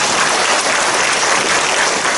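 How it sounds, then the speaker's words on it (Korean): Church congregation applause during a worship service, a dense, even roar of many hands clapping, loud and sustained for a couple of seconds with no talk over it. "우리 주님께 영광의 박수 드리겠습니다"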